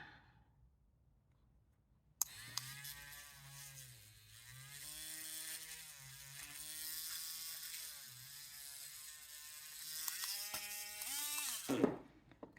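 A small drill whirs steadily as it bores a hole through a polymer clay and resin paper earring, its pitch dipping and rising under load for about ten seconds before stopping.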